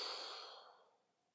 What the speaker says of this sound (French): Soufflez fortement.